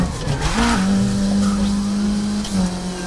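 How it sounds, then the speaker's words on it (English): An engine note from the racing video game Need for Speed Heat drones at a steady pitch after a brief rev and tire squeal, loud and clear with no talk over it. "and it's the sound of the exhaust"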